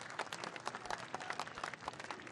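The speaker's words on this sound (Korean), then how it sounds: "지지자들의 박수 소리가 계속 끊이지 않고 있습니다" Supporters clap without letup as a presidential candidate steps out of a car on election night, a faint, dense patter of many hands heard from a distance.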